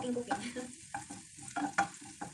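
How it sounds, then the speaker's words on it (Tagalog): Garlic fries in a pan with a soft, steady sizzle, broken by several light stirs and scrapes at moderate distance. "Lutuin lang natin yung bawang."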